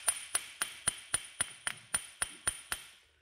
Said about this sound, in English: Other times you just got to tap the end here with a hammer a few times